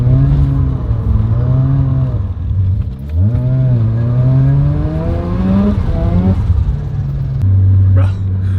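A Mazda RX-7 engine droning steadily as the car runs downhill on a wet mountain touge road, its pitch rising and falling with throttle and gear changes, loud and close from inside the cabin.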